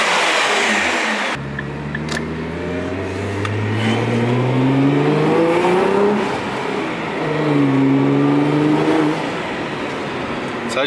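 Nissan R35 GTR engine revving with rising and falling tones, fitted with GFB blow-off valves, only a faint hint of spool audible; loud and close, with voices talking underneath.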